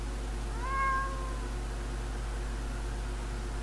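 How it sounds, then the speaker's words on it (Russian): One drawn-out cat meow from the video game Sally Face, rising then falling, heard over a steady low electrical hum and faint background hiss; otherwise quiet. "О, котик."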